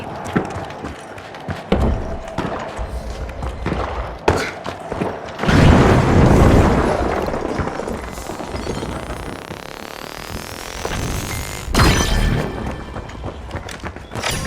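Frag grenade going off in the destructible-arena shooter The Finals, a broad loud blast burst amid ongoing gunfire, crashing debris and thuds, with further impacts and a second heavy hit near the end.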